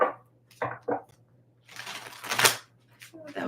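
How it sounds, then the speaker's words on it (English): A deck of tarot cards being shuffled in a few short bursts of riffling and sliding, close and fairly quiet, with a longer rustling stretch in the middle and a low steady hum beneath. "That was like the worst shuffle I've ever done."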